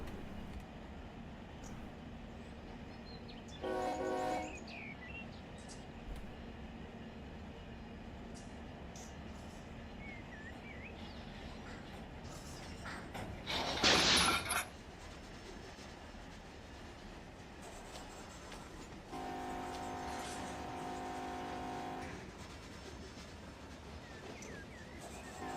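A big diesel road locomotive in Run 8 Train Simulator, a faint steady rumble with brief louder horn-like tonal bursts at intervals and a sustained tone late in the run.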